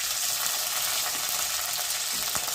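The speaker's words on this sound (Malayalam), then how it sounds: "ഇനി ഇതിലേക്ക് നമുക്ക് കുറച്ച് അരിഞ്ഞ് വെച്ചിരിക്കുന്ന ഇഞ്ചി." Chopped ginger fries in oil alongside chilies and curry leaves for a Kerala tuna curry, making a dense, even sizzle with light stirring, close and constant and without any voices.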